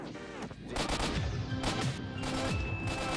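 Video game gunfire from an AK-74 shooting mission: several loud, sharp shots and rapid bursts crack in quick succession over a tonal game soundtrack, with no voices.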